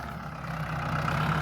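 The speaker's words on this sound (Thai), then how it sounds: "เป็นรถไถฟอร์ดใหญ่ครับตัวนี้" A large Ford tractor engine works through a field during plowing, a steady low rumbling drone with a deep, even throb, close and continuous with no talk.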